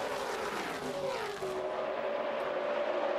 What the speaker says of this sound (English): that right foot goes to the floorboard and the RPMs come up and the engines begin to thunder